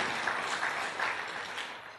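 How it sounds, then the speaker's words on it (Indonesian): A church congregation applauds in a steady, continuous wash of clapping that tapers slightly at the end, fairly distant and faint. "Berikan tepuk tangan yang meriah buat Tuhan"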